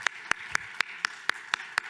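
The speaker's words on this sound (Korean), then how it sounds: "우리 하나님께 영광의 박수 올려드리겠습니다" A church congregation claps during a Friday evening worship service: eight crisp, evenly spaced claps at about four per second, steady and near, with no talking.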